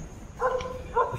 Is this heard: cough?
no